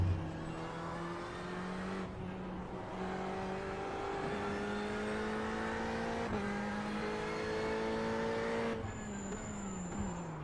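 A Ferrari 488 GTE race car engine in the iRacing sim holds a steady, loud, high-revving drone, dipping and climbing with several gear changes as it powers along the track.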